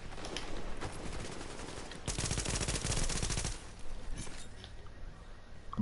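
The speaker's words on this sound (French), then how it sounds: "J'ai balancé ma tourelle." A deployed turret fires in Tom Clancy's The Division video game, a dense burst of rapid automatic gunfire lasting over a second amid background game noise and scattered distant shots.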